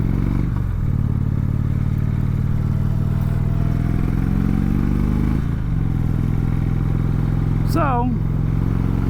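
A motorcycle engine idling close by, a loud, steady low rumble with a couple of brief throttle blips that rise and settle back, and a short whining sweep near the end.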